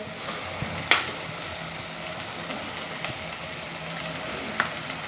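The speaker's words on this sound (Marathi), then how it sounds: "मटकी छान एकदा परतून घ्यायची" Sprouted moth beans (matki) with tomato being sautéed in a pan give a steady close sizzle and crackle, with a couple of sharp spoon clinks against the pan.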